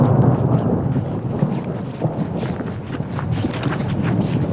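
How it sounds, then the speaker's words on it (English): Thunder from an unforecast storm rolling in over backcountry high ground during a spring black bear hunt makes a continuous, loud, low rumble that fills the whole stretch. "There's a storm rolling in that was not forecasted."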